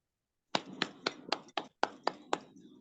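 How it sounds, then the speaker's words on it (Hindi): Burst of hand claps welcoming participants at the start of an online training meeting: about nine sharp, separate claps in quick irregular succession, close and fairly loud, with no talk over them. "जोरदार तालियों के साथ।"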